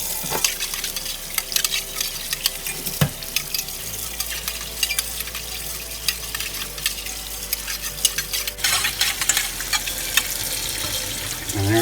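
Water runs over a restored Revereware copper pot at a sink, a steady broadband rush with clatter and scrubbing knocks throughout, close and fairly loud, no voices.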